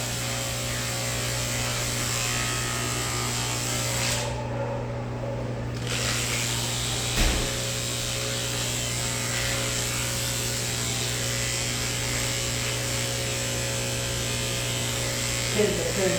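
Electric clippers buzz steadily while grooming a dog, a close, continuous motor hum that holds its pitch, broken only by brief shifts as the blade moves through the coat.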